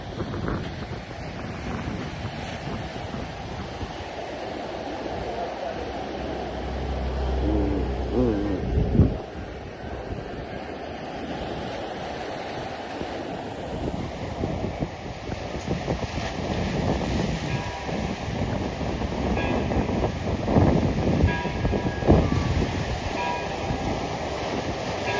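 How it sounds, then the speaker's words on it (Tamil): Strong wind blowing on the beach at Kanyakumari, buffeting the microphone with loud gusty rumble over surf-like wash, rising and falling throughout while voices talk faintly underneath. "கடற்கரை சைடு, கடற்கரை சைடு அதான் காத்து அடிக்கும்"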